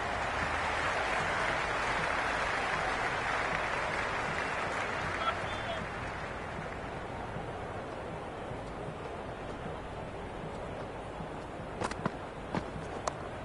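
Steady crowd applause and cheering at a cricket ground in an England vs Australia T20 cricket video game, loud at first and gradually easing to a lower murmur, with a few faint knocks near the end.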